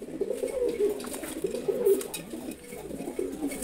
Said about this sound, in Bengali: এই রেসার কবুতর জোড়াটা কেমন লাগলো